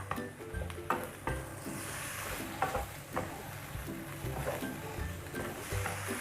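Bell peppers stir-fried in a pan with a splash of stock over high heat for a stir-fried pork liver dish, giving a steady sizzle with scraping spatula strokes and clinks throughout.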